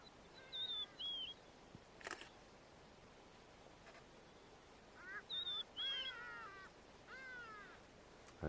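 A hadeda ibis gives loud, harsh, rising calls in short bursts, first around the start and then again several times later, set against quiet ambience at Shamwari Game Reserve.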